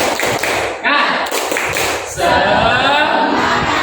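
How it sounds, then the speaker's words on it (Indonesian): Classroom of students in an Islamic history lesson doing the rhythmic "tepuk semangat" cheer clap, loud close claps in quick patterned bursts with a short pause, then a sustained group chant. "Tepuk semangat."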